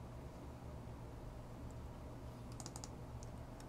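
Clicking on a computer while downloading HP printer firmware: faint keyboard and mouse clicks, a short cluster near the end, over a quiet steady hiss.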